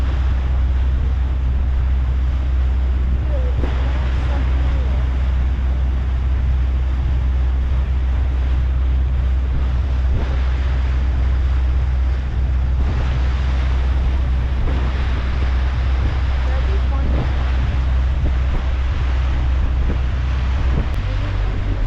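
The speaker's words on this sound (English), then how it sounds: "when waves come crashing into there, it sounds a lot like thunder" Ocean waves surging against a rocky inlet at Painted Rock, a steady loud roar of surf blended with heavy wind buffeting the microphone throughout, with no talking.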